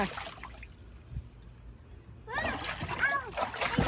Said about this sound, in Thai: วันนี้ก็พากันเล่นน้ำข้างบ้านไม่ได้ไปไหน